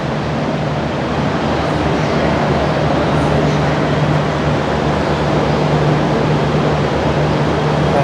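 A train sits at a large Melbourne station platform, giving off a loud, steady rumble and hum with a low droning tone and no breaks.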